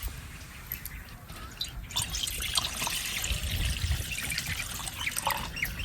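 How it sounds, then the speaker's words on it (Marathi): Water is poured from a lota into a hot kadhai while making chilli thecha, giving a steady trickling, splashing sound over several seconds, fairly quiet and close with no talking. "तर आता ह्या तापलेल्या कढईमध्ये आपण एक नाही एक तांब्या पाणी घालायचे"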